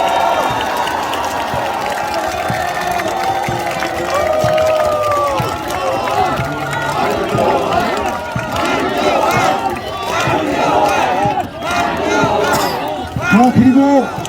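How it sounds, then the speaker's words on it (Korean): At an outdoor press conference outside a handball stadium, a crowd applauds and cheers, dense clapping mixed with shouts and overlapping voices that swell and fall over a long stretch. "박수 한번 부탁드리겠습니다."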